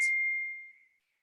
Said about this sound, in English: I apologize if you can hear my dinging in the background with the text messages.